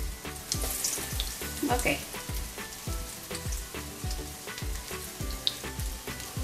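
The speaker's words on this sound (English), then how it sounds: "We'll fry until it gets golden brown." Potato patties sizzle and crackle steadily in hot oil in a pan, a close, continuous frying hiss with small popping bursts throughout; a voice briefly speaks once.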